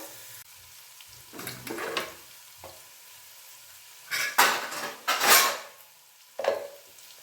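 Cooked rice tipped into a pan of reddening onions, a quiet background sizzle broken by several close scraping and stirring bursts of a spoon against the pan, with brief pauses between them.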